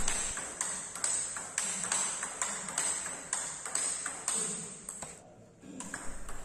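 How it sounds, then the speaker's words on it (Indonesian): A table tennis ball is struck again and again in a relaxed spin rally with an Andro Rasanter C53 rubber, giving sharp, evenly spaced ping-like hits with a brief gap near the end. "saya mencoba melakukan spin bola kosong dengan tenaga yang sama dan santai"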